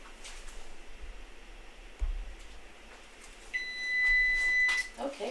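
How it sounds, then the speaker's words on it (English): Oven timer beeping in a home kitchen during cracker baking, one sustained high electronic tone near the end after quiet rustling and a soft thump. "my timer is done"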